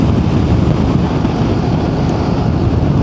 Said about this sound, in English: This wind is really hitting me at an angle.